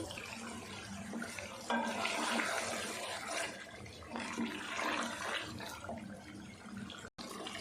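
Leftover trotter stock (yakhni) pours steadily into a simmering curry of tender trotters, a continuous close liquid rush and splash with no voices.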